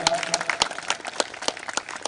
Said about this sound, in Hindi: जोरदार तालियां आना एक बार